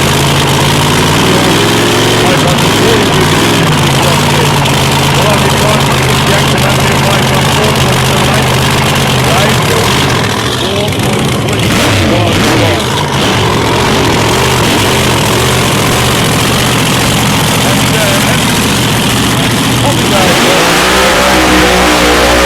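A 1967 Mustang drag car with a 525 cubic inch engine doing a roll-through burnout at a drag strip, a loud sustained engine roar with heavy low rumble and tyre scream, an announcer talking over it, then a sudden rev change near the end.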